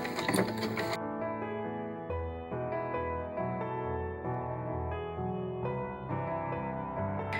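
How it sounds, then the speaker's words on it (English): A sewing machine stitches quilt binding in the ditch, a steady close mechanical whir with a rhythmic hum that runs continuously after a brief noisier start. "I'm going to continue sewing in the ditch"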